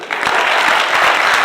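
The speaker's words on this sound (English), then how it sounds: "Can we clap for him?" An audience at a question-and-answer session on leadership and governance breaks into applause for a speaker, with dense, steady clapping that starts abruptly and holds at full strength.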